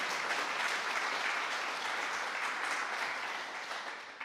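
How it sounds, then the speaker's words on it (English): An audience at a history lecture claps steadily for several seconds, a dense even wash of applause that tapers slightly at the end. "you can clap."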